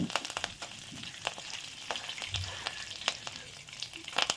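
Curry leaves, about two sprigs, crackle and sizzle in hot oil with cloves, cardamom and nutmeg while tempering for a restaurant-style mutton gravy curry, a steady close fry broken by sharp pops, with no voices.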